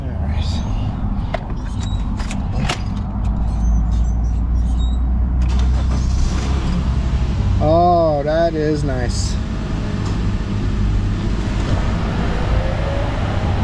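A Honda car engine idles after being started with the ignition key, a loud, steady low rumble running throughout, with a person speaking briefly over it.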